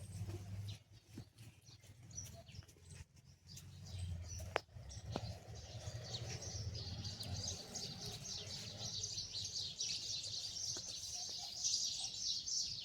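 Faint chirping of birds gathered at a feeding spot where grain is scattered for them, thin calls scattered over a steady low rural hum, with no voices.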